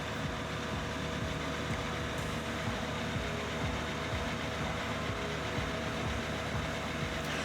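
A Black Hawk helicopter engine runs steadily at about 2,300 RPM during rotor balancing, giving a dense, continuous mechanical drone with a rapid low pulsing throb that holds at an even, close, loud level throughout.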